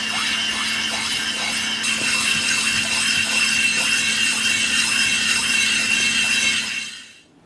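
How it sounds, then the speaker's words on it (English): Rotary engine housing lapped by hand on sandpaper to smooth a pitted surface, a continuous close scraping rub with a steady rhythmic grit texture that stops abruptly near the end. "So using the sandpaper on this side"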